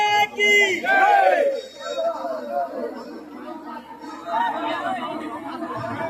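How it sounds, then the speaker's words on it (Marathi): Dense crowd chatter at a crowded hilltop fort temple during a flame-lighting ritual, many overlapping voices close around with louder shouts early on, a steady busy hubbub throughout. "जबरदस्त गर्दी"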